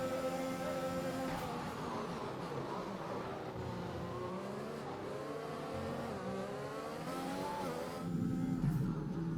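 F1 race car engine at full throttle in the video game F1 2021, a loud high-pitched scream climbing and dropping through gear changes, heard from the cockpit and continuous for the whole stretch.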